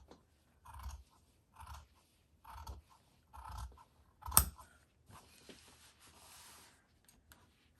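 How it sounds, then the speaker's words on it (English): Good scissors cutting craft material for a DIY gnome, five or six evenly spaced close snips, followed by a sharp clack and soft rustling of the material. "take your good scissors and start at the corner and cut up to that spot that you just made"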